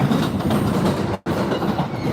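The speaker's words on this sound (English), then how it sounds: "But you notice how loud the train is?" Loud, continuous rumbling of a Japanese train on rails between Ikebukuro and Kumagaya, close and steady, broken by a momentary dropout before the roar resumes.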